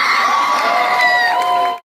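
Crowd of spectators, many of them children, cheering and whooping at the start of a race, loud and sustained for about two seconds before cutting off abruptly.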